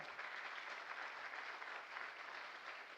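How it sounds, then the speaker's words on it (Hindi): Audience applause at a network marketing training seminar, honoring parents: steady, dense clapping from a crowd, moderately faint and continuous throughout, with no speech over it. "एक बार जोरदार तालियां हमारे उन माता पिता के लिए जिन्होंने हमको इस काबिल बनाया"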